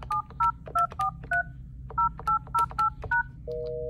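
A Yealink desk phone plays a quick run of dialing tones, about a dozen short crisp beeps in an uneven rhythm, followed by a steady sustained tone at the end.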